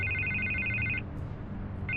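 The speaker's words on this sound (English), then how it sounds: "I can't get the phone to stop ringing." A telephone rings in Batman: The Telltale Series, a bright electronic double-tone ring repeating steadily for about a second, pausing, then starting again over a low background hum.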